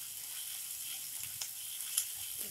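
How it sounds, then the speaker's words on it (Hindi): Onion, garlic, ginger and chillies sizzle quietly in a hot pan over a low flame, a soft continuous frying hiss with an occasional faint scrape or pop. "अब इन सारे इंग्रेडिएंट्स को हम प्याज के साथ 2 मिनट तक स्लो फ्लेम पे भून लेंगे"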